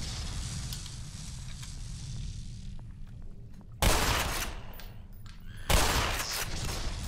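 Gunfire in the video game Black Mesa, a continuous rattle of rapid shots through the first half, then two sudden loud blasts of dense automatic fire, close and harsh, with no voices.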